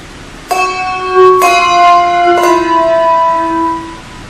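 A handbell is rung three times with bright, clear strikes. Each tone rings on with long, sustained overtones that slowly decay, close and loud.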